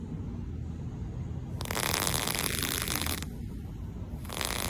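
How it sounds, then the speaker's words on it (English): A Velcro wallet from 1994 is pulled open in loud, dense crackling bursts, two rips separated by a short pause, close to the mic with no talking. "This is straight up Velcro crackle."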